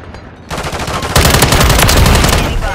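Rapid automatic gunfire in Call of Duty: Modern Warfare, a loud close burst that swells into sustained firing after a brief quieter start.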